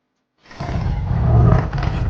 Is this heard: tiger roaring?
yes